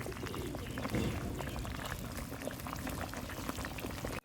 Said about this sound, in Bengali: এবার আস্তে আস্তে জাল দিয়ে ডাটা আর আলু সেদ্ধ করে নেবো।